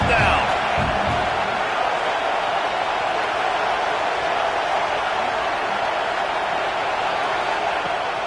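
Steady, loud stadium crowd roar at a Vanderbilt versus Oklahoma State college football game, filling the whole stretch with a continuous wash of cheering and noise.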